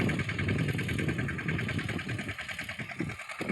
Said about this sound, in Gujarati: ટ્રેક્ટર સામે હાલે.